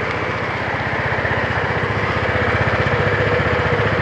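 A Vespa GTV 300 ie scooter engine idles steadily close by, with an even, rapid low chugging pulse throughout and no talking over it.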